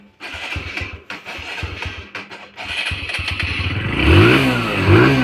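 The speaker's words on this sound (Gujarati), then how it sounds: "આપણે કરી દીધું બાઈક ચાલુ" A motorbike in a village is kicked and cranked with several sharp stuttering bursts, then catches and settles into a loud, close, steady idle that rises slightly.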